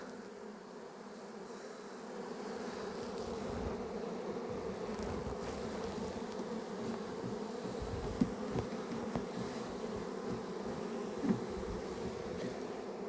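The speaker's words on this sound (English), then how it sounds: "there's so many bees" Dense, continuous buzzing of a large honeybee swarm, steady and close, with occasional soft knocks.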